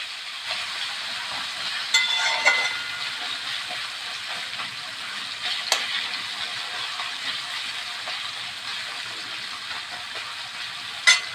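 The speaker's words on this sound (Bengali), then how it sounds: "এটা হচ্ছে এই তোমার আলুটা জাস্ট একটু ফ্রাই করলাম" Potatoes fry in oil in a pan, making a soft, steady sizzle with occasional light clicks from stirring.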